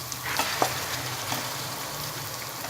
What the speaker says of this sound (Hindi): इसको हम 4 से 5 मिनट के लिए इसी मसाले के अंदर भूनेंगे